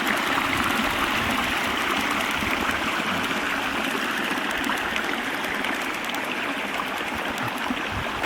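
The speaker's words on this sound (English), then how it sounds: "Listen to that babble." A babbling brook flows steadily past a giant quartz rock in the wild, a continuous close rush and gurgle of water that holds evenly throughout with no talking.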